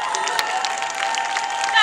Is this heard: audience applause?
yes